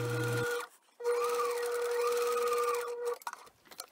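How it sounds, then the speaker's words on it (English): A sewing machine stitches a fabric face mask seam with a pipe cleaner along it, running in a steady close whir for about two seconds after a brief start, then stopping with small handling clicks. "and continue to sew right along next to it"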